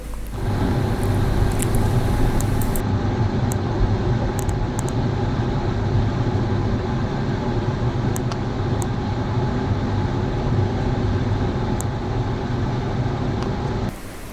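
Inside a moving passenger train in Sri Lanka, a steady, even rumble of wheels and carriage continues throughout, with faint scattered clicks and rattles and no talking.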